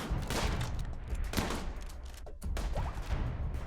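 Rapid gunfire rattles through a Rimworld battle, dense overlapping shots and bursts loud and continuous from start to finish with no talk.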